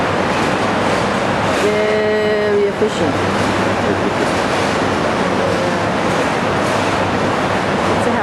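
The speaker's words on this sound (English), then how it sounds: "And there's a train happening." A train rolls past near a canal-side road with conveyor belts and pallets in the Netherlands, a steady rumble and clatter running throughout with a brief whistle-like tone, while people chat over it.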